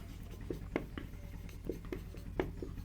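Chalk or a marker writes on a classroom board during a physics lesson, giving faint, scattered scratches and taps in an irregular rhythm over a low room hum.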